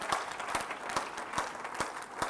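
Church congregation clapping together in a steady rhythm, about five firm claps spread over two seconds, with no voices over them.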